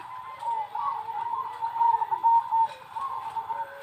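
Soft, steady cooing from a Moka Majapahit perkutut zebra dove, a continuous low warbling call at moderate distance over faint background noise.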